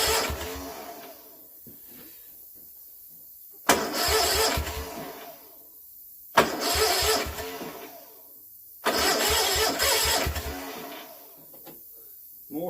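An old Kohler twin-cylinder engine, freshly serviced with a valve job, is cranked three times in loud bursts of a few seconds each, with quiet pauses between attempts and no catch.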